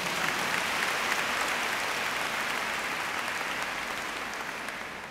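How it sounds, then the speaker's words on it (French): An audience at a religious talk applauds, a soft, even wash of many hands clapping at a distance, steady and then fading slightly toward the end. "Très bien, applaudissez pour vous-même."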